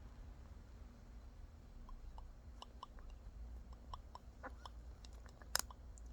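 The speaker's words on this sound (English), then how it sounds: "No chewing, please, ma'am." A pet rabbit chewing close by, with faint repeated crunchy bites and small clicks over a steady low background hum.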